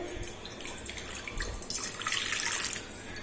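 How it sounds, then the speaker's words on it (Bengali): Water poured into a pan on a gas stove before boiling pointed gourd: a short splashing, gurgling pour building to a brighter rush near the end, close and moderately loud. "অল্প জল দিলাম"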